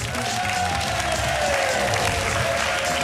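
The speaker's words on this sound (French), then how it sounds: "on peut nous applaudir" A TV studio audience on a French evening talk show applauds, a dense, loud wash of clapping and crowd noise filling the whole moment, with a low hum or tone running underneath.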